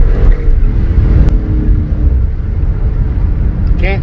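A 2019 Dodge Challenger on Nitto NT05 drag radials accelerates hard, a loud, close, low roaring engine rumble sustained throughout, ending with a brief higher squeal-like sweep.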